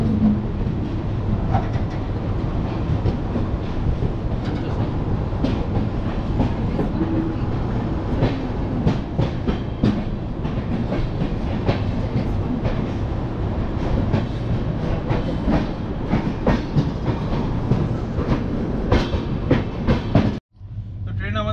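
An express train leaving Kolkata on time, heading for Bardhaman and onward to Siliguri, rumbles steadily with a continuous close rolling roar and clattering wheels from onboard for about twenty seconds, cutting off abruptly at the end.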